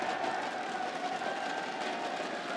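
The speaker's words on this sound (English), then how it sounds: "A cheer for Banana." A crowd cheering at an esports grand final, a steady wash of roaring and whooping voices from a large arena audience, moderately loud and unbroken for the whole stretch.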